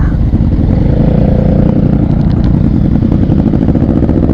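A TRK502X motorcycle fitted with a DaivoHp exhaust rides along a mountain road, its engine giving a loud, steady, deep rumble close by throughout.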